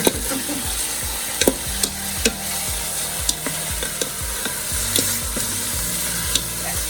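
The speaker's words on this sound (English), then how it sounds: "So you just want to turn it a bunch and get it all browned up" Meat sautés and browns in a Ninja Foodi pressure cooker, sizzling loudly and steadily while a utensil repeatedly scrapes and turns it, giving regular clacking strokes over the frying hiss.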